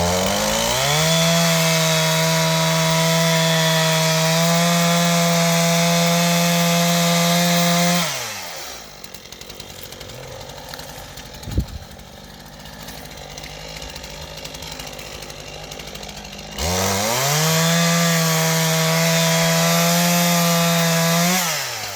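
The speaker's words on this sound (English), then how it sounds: "it's got the old steel MS 251 chainsaw, just a good farm chainsaw" An old Stihl MS 251 farm chainsaw roars loudly at high revs cutting into a big tree trunk, drops to a low idle for several seconds with a brief knock, then revs back up and resumes cutting.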